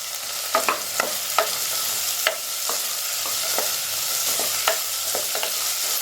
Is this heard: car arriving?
no